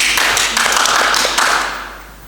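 A few sharp hand claps ring out close and loud in a quick, uneven burst, keeping time with a song.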